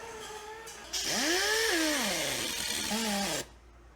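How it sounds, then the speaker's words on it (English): A power tool, likely a wire wheel or grinder, scrubs surface rust off a car part during CVT transmission maintenance, whining loudly for about two and a half seconds with its pitch sweeping up and down as it bites, then cutting off abruptly. "now I'm going to get in there and clean that surface rust up real quick"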